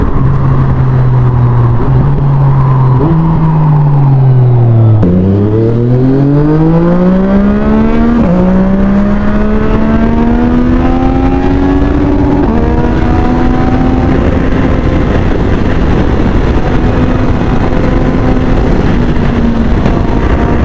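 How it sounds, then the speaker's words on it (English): A loud Yamaha MT-09 motorcycle with an Akrapovic exhaust revving hard up through several gears, with sharp pops and brief breaks at each quick-shifter upshift, continuous and close. "the quick shifter sound is amazing thanks to this Akrapovic exhaust"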